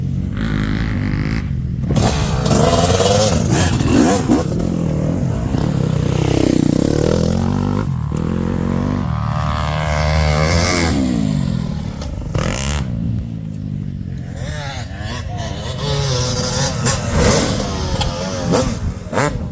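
A motorcycle engine revs hard in third gear at half throttle, its loud note rising and falling across several pulls with some mechanical clatter, close by.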